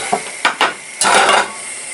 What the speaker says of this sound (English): you add the rice and you cook the rice in the oil for a short period of time, stirring it continuously